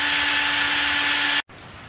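A power drill whines loudly with a steady high-pitched motor tone, then stops abruptly, followed by a brief quieter hiss.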